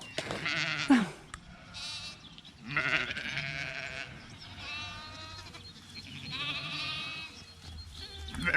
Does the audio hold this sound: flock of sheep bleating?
yes